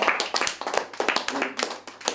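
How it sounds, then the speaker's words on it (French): Hands clapping in a quick, uneven rhythm, a few people applauding up close with brief pauses between bursts. "Ça mérite des applaudissements."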